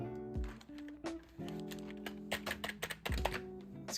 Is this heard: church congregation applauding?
no